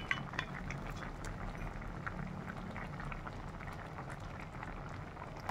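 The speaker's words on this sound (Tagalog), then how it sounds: "Hayaan na lang natin siya na kumulo" Beef caldereta with tomato sauce and a little vinegar simmers in a pot, a soft continuous bubbling with scattered small pops and faint ticks, close but quiet, with no voices.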